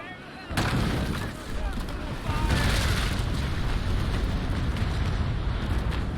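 Cannon broadside fire in the Naval Action naval game, a heavy burst of booming shots that swells suddenly and rolls into a dense, loud, sustained roar of overlapping blasts and splashes.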